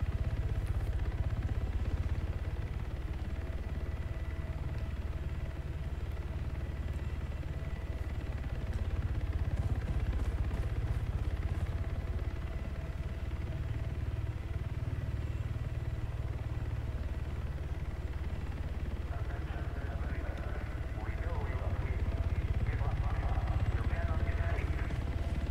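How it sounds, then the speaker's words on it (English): A search helicopter with a searchlight and PA system in a video game hovers and pauses at waypoints, giving a steady, continuous rotor and engine drone throughout, with a slight rise in texture near the end. "Notice the helicopter pauses at the waypoints."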